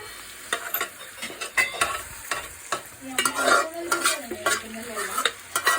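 Chicken curry stirred in a sizzling pan, a utensil scraping and knocking in quick irregular strokes over a constant fry, close up with no talk.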